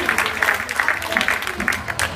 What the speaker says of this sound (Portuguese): podem bater palmas palminhas agora